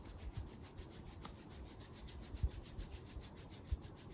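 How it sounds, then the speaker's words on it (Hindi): Face oil drops rubbed between two palms to warm them, a soft steady skin-on-skin friction with a few light pats, close and quiet with no talking. "देन हम इसको रब करते हैं जो है ये वार्म अप हो जाए।"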